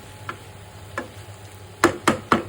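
Sun-dried beef and potatoes stir-fried on a low flame: soft scraping stirs, then three sharper spatula knocks against the pan in quick succession over a faint background sizzle, with no talk.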